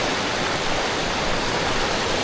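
A mountain stream in the Buttermere fells rushes steadily and loudly close by, a constant broadband wash of flowing water with no voices.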